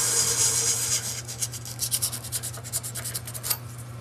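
Sandpaper, around 100 grit, rubbing a pen blank tube spinning at low speed on a wood lathe: a close scratchy hiss over a steady motor hum, breaking into quick rhythmic rasping strokes.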